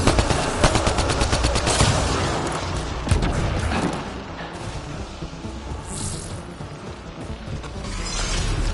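Rapid bursts of automatic gunfire in a video game crackle loudly and densely for several seconds, then give way to scattered single shots, mechanical clicks and a distant rumble.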